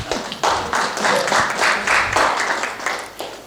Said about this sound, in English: Clap while he's sitting.